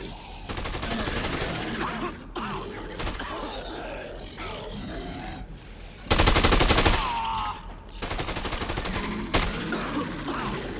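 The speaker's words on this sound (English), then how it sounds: "I hear gunshots still." Rapid bursts of automatic gunfire rattle repeatedly amid grunts and groans, with one loud, dense volley in the middle, from video game combat in Dead Rising 2: Off The Record.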